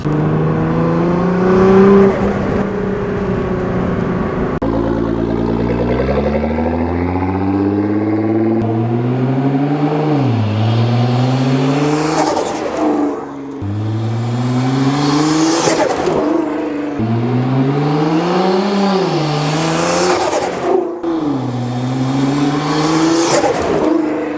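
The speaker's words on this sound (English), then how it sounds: "we're gonna hear a little bit more turbo sounds" A car engine revs repeatedly, climbing and dropping in pitch, with fluttering turbo chatter between revs, loud and close throughout.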